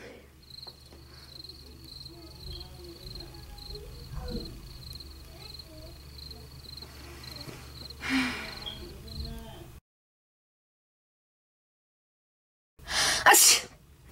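A sharp sneeze bursts out near the end of a classroom scene, following a low murmur of background chatter, a faint high steady tone and a brief silent gap.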